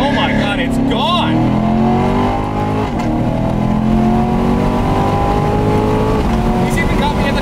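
A 2018 Corvette Grand Sport accelerates hard in a drag race against a BMW M550i, its engine loud and close as it climbs through rising, shifting revs, with voices talking over it.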